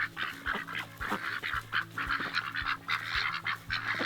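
Homestead ducks quacking and honking nearby, a rapid run of repeated loud calls that overlap one another.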